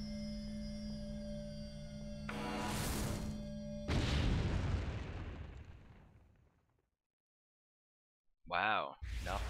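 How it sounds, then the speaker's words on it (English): A mining bomb goes off in Entropia Universe on the planet Arkadia, a loud booming blast followed by a second rumbling burst that fades to silence, with someone talking over it. "Let's see what we get on this next bomb here."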